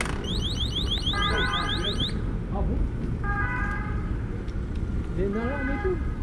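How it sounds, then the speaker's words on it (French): Anti-theft alarm of a LEMMO ONE belt-drive electric bike, sounding when the locked bike is moved: repeated rapid rising electronic chirps and warbling beeps in bursts, loud and close over steady street background noise. "une alarme si vous essayez de déplacer le vélo après l'avoir verrouillé"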